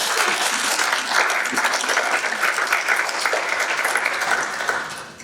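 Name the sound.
audience applause for the panel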